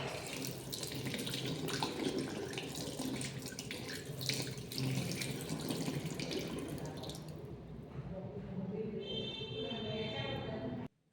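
A bathroom tap runs steadily into a sink during face washing, loud and continuous, then stops near the end.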